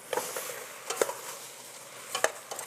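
Tomatoes and onions sizzle steadily in a hot pan while being stirred, with a few scraping clatters of the spoon against the pan rising over the constant frying hiss.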